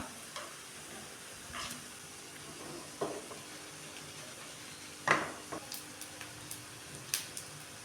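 Traditional green peanut vadas frying in oil over a normal flame, a faint, close bubbling sizzle with scattered sharp pops and crackles and a few light ladle taps as they are turned.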